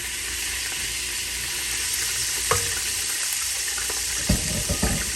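Pork fat and beef fat sizzling in a pot, a loud steady frying crackle with a few sharper pops and clinks of stirring near the end.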